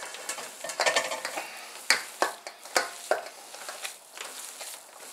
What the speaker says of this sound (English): I'm going to mix it a little bit before.